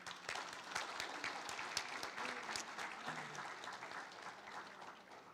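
Audience applause fills the hall at a centennial celebration, a steady dense patter of many hands sustained throughout at moderate level, with faint voices underneath and a slight taper at the end.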